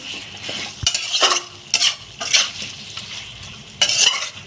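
A spoon stirs Bengali chicken kosha slowly frying in a pan, scraping close and loud in several distinct bursts over a continuous sizzle, with no talking.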